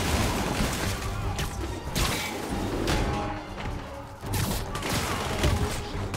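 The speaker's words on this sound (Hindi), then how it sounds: "आप जो उधर खड़े गोलियां मार रहे हो" Gunfire from enemies in a Spider-Man video game fighting Rhino, Electro, Scorpion and Vulture crackles in dense bursts amid thuds and impacts, fairly faint and continuous throughout.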